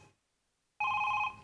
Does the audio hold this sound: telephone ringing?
yes